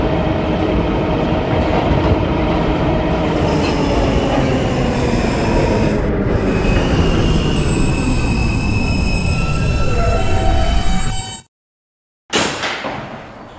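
R160B Alstom subway train running on the R line in the Roblox PTA Subway game, loud steady rumble with squealing wheels and clickety-clack, cutting out briefly near the end before resuming.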